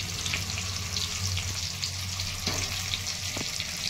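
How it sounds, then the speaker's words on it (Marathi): Brinjals fry in hot oil with a steady, close sizzle and a few short clicks and bumps from the pan, and no one speaks. "तेलामध्ये वांगे टाकून घेते."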